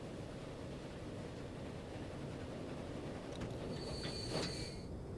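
In the video game Transport Fever 2, a train pulls away from a station with a steady low rumble of wheels and engine, and thin metallic squeals rise briefly near the end.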